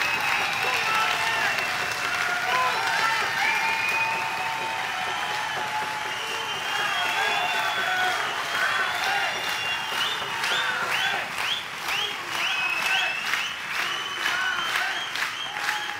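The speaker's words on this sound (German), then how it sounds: "Applaus ist berechtigt." Audience at an open stage show at the Roxy in Ulm giving sustained applause, a thick continuous clapping that thins and turns more distinct toward the end.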